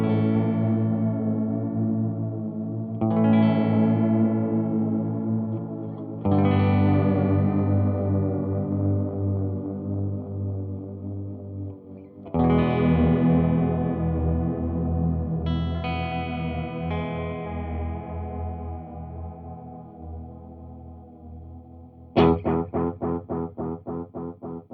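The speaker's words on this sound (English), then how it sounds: "So you can really hear a detuning effect happening there." Electric guitar through a Behringer Vintage Time Machine pedal with its chorus set high, giving a wobbly detuned shimmer on sustained chords that ring out and decay, ending with a quick strummed burst; no talking.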